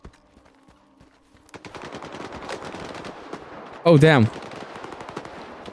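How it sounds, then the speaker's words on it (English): Rapid automatic gunfire and scattered shots crackle through a firefight with bandits in the video game STALKER 2, opening quiet before a sustained burst of fire builds, with a brief loud exclamation over it. "probably the worst freaking firefight we could have encountered"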